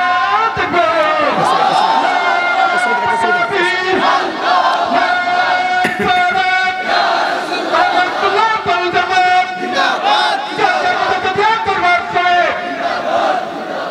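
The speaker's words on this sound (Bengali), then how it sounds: "ইয়া রাসূলুল্লাহ, ইয়া রাসূল, এ স্লোগান দাও" Large crowd at a Bangladeshi Islamic waz gathering chanting the slogan Ya Rasulullah in loud, sustained unison, rhythmic repeated shouts filling the space for the whole stretch.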